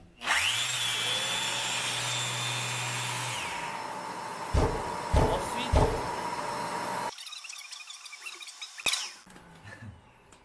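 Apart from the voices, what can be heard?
electric sander running with automatic dust extraction vacuum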